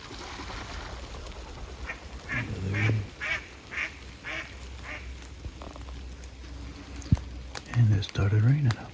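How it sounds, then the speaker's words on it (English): Ducks quacking on a pond during a hunt on a ridge above the water, a few rhythmic quacks in a row over steady outdoor background noise, with more calls near the end. "3 ducks landed in the pond."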